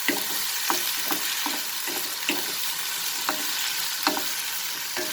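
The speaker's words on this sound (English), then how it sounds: "And cook over a high flame till the tomatoes get slightly cooked." Tomatoes with a little salt fry over a high flame, giving a continuous bright sizzle with soft, regular stirring strokes roughly every half second, close and unbroken, with no voices.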